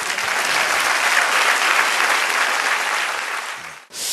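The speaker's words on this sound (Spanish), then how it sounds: "Y den un aplauso al Señor." A church congregation breaks into loud, sustained applause, dense clapping that fills the room for about four seconds before cutting off sharply.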